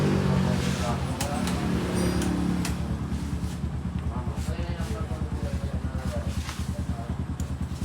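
A flood-damaged motorcycle that had been submerged is cranked by its starter, first in an irregular grind, then in a steady, fast chugging rhythm that continues to the end, close by, with people talking over it.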